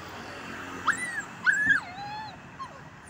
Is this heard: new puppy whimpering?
yes